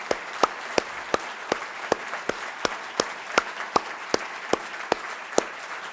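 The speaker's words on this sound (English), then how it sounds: "So let's give them a huge, huge round of applause." A single person claps slowly and evenly at a regional panel discussion, about fifteen distinct sharp claps spaced roughly a third of a second apart, close and clear over a quiet room.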